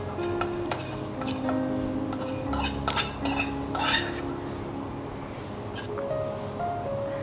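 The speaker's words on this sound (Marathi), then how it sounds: "मेथयो भाजून घेता." Fenugreek seeds dry-roasting in a pan for a Goan stuffed raw mango pickle, stirred with a utensil that gives close, steady scraping and clinking with sharp scrapes throughout, over a low background hum.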